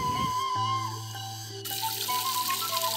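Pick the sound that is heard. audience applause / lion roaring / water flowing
water flowing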